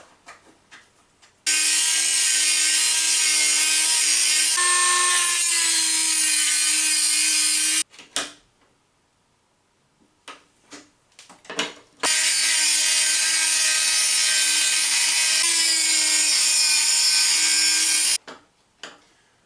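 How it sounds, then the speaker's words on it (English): Screws being backed out of an In The Groove 2 dance pad: two long, steady, loud whirring runs of about six seconds each, up close, separated by a pause of quiet clicks and handling knocks. "That is unscrewing."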